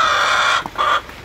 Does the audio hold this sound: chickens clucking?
yes